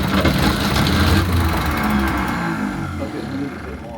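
A sailboat's inboard engine cranking and trying to start with throttle applied, a steady loud mechanical churn that fades slightly toward the end, heard under someone talking.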